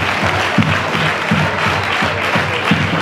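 Audience applause at a charity concert, a steady close wash of many hands clapping continuously, with a few louder individual claps standing out.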